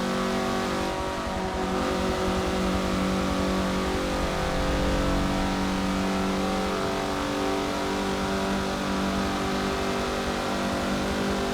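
A 2013 Mazda MX-5 Cup race car in Forza Motorsport 7 laps the Nordschleife, its engine roaring loudly and continuously at high revs with steady buzzing harmonics, close and alone without any talking.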